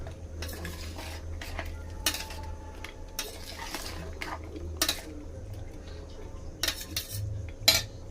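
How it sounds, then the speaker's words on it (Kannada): A metal spoon stirs ground masala in a pot, giving repeated scraping and clinking strokes with an irregular rhythm and a low background hum, close up and with no talking. "ಹಾಕ್ಕೊಂಡು ಚೆನ್ನಾಗಿ ಮಿಕ್ಸ್ ಮಾಡ್ಕೊಳ್ಳಿ."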